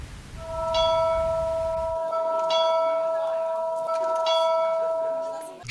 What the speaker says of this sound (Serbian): Školsko zvono ponovo poziva decu na nastavu u selu Rsovci posle više od 15 godina.